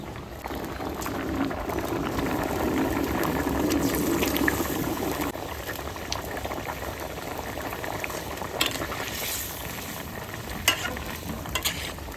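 Hilsa fish sizzles and bubbles in hot oil in a pan, a steady close frying hiss with occasional stirring clatter and no voices.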